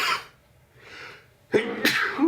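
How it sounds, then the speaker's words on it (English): A sharp, loud sneeze bursts out after a faint breathy intake, with a second explosive burst close behind, nearby. "Sneeze came on me."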